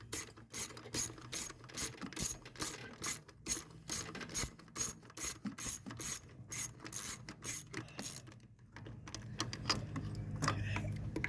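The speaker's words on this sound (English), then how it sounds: "There's 2 10mm bolts that hold each coil in place. As we said before. We'll just loosen those." A ratchet loosens 10mm bolts holding car ignition coils, clicking in a steady rhythm of roughly eighteen quick strokes over eight seconds, close and crisp, then giving way to quieter handling noise with no talking.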